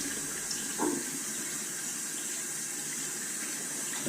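Water running steadily from a tap as shaving gear is rinsed clean, a continuous soft hiss with a brief splash near the start, fairly quiet throughout.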